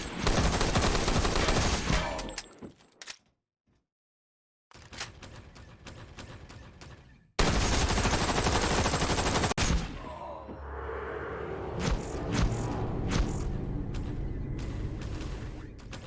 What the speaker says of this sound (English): Okay, I wasn't expecting bots with guns.